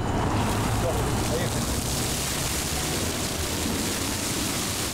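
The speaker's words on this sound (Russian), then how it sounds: "Струи воды разлетались в воздухе, даря прохладу и привлекая к себе детвору." City fountains in Cherkessk send jets of water into the air, making a steady, dense spray hiss that runs unbroken and fairly loud throughout.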